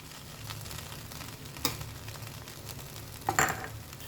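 Poha with peanuts and lemon juice is stirred in a pan over a low flame, giving a soft, continuous sizzle broken by a few scraping stirs.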